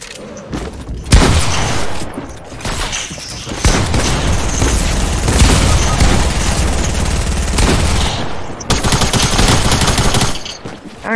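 Rapid, loud submachine gun fire in a shooter video game, long sustained bursts with brief pauses between them, dense and punchy throughout.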